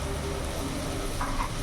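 Ground chilli, cumin and coriander spices stirred in a frying pan, a steady soft sizzle with faint scraping throughout, close and even.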